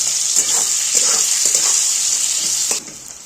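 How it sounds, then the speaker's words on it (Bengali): Onions frying in oil for a mutton curry give a steady, close sizzle with faint stirring scrapes, then drop in level near the end. "তো দেখতেই পাচ্ছেন আমি পেঁয়াজটা ভালো মতো লাল করে ভেজে নিয়েছি"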